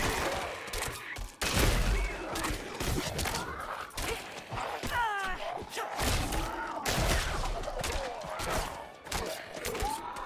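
Video-game gunshots crack out in irregular, loud bursts and volleys with heavy thuds between them, while a voice talks over parts of the action.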